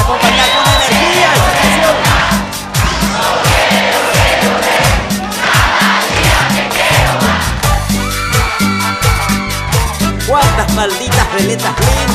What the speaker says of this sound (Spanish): Vamos a hacer palmas y vamos a acompañar con energía.